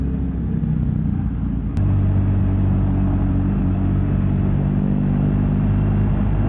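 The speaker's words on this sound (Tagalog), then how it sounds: "Marami pa pong sasakyan sa EDSA ng ganitong oras." Car traffic on EDSA near the Ayala Avenue tunnel rumbles as a steady, loud wash of engines and tires, with a sharp click partway through and a heavier drone afterward.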